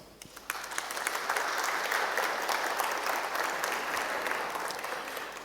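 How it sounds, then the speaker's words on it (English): Audience applause at a startup networking event, a full, steady round of clapping from a room of people that swells quickly and holds, heard alone without talk. "Let's give it a round of applause."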